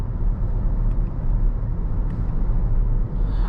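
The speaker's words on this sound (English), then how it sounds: "But we'll try these paddle shifters here." A 2013 Mercedes-Benz GL450 accelerates under paddle-shifted gears, its engine a steady low rumble heard from inside the cabin, loud and continuous with no talking.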